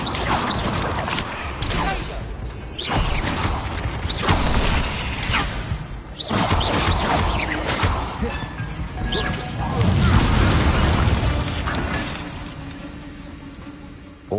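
Repeated Confringo blasting spells explode in Hogwarts Legacy, a run of loud crashing blasts and whooshes with heavy thuds and rumbling debris, coming in quick bursts one after another.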